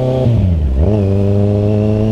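Kawasaki Z1000 motorcycle engine revving close by, a sharp blip that dips and climbs back before settling into a steady, loud idle with strong low harmonics.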